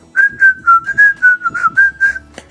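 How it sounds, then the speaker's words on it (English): A person whistles a lively tune, about nine clear bright notes in a bouncy rhythm, close and alone with no talking. "He whistled all the way there"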